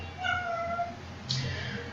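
Housecat meowing indoors, two drawn-out meows followed by a shorter third call, close and moderately loud in a quiet room.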